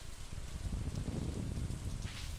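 Stormy weather in the farming video game Stardew Valley brings a steady wash of rain falling on surfaces, moderately loud and continuous, with no talking over it.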